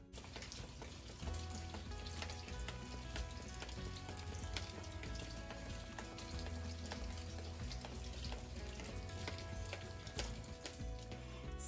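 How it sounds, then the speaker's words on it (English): Heavy rain pours outside in Arizona as a continuous, even hiss. It stays faint and unbroken throughout, with no voices. "I wish you guys could hear the rain. It is raining here in Arizona."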